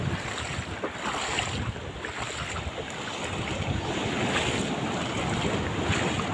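Large sea waves wash and surge continuously around a small fishing boat at sea, with heavy wind buffeting the microphone and no speech.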